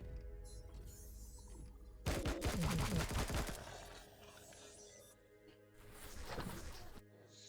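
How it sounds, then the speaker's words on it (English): Assault rifle fire in the video game Empyrion Galactic Survival, a quick burst of rapid shots in the middle, fairly quiet, with softer game sounds before and after. "Let's stay with the assault rifle. It seems to be pretty effective."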